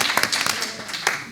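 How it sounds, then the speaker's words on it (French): A small audience at an ethics forum claps after a talk: a brief, scattered patter of hands, moderately close, lasting only a moment. "On va l'applaudir parce que c'était très intéressant."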